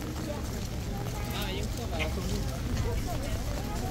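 Horse hooves clopping through heavy rain, the animal soaked and agitated, with steady rain noise and low crowd murmur filling the background throughout.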